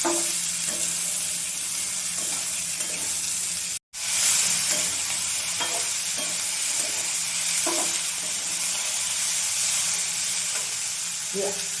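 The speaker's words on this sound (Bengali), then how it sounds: "যে আলু আর পেঁপে কেটে রেখেছি দিয়ে দেবো।" Cut potato and papaya pieces fry in a hot pan, a loud unbroken sizzle with soft stirring knocks recurring every second or two.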